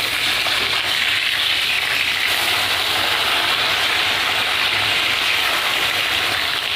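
Puti fish, just turned over, fry in hot oil in a wok for a Bengali pumpkin curry, giving a continuous close hiss and sizzle with no voices.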